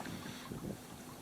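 Gusting wind buffets the microphone on a freezing, iced-up river during Spey casting, a steady broadband rush with low rumbling surges that swell and ease over a moment, no voice present.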